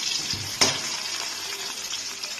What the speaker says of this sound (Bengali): ওই জন্য আলুটাকে আমি ভেজে নিচ্ছি লাল লাল করে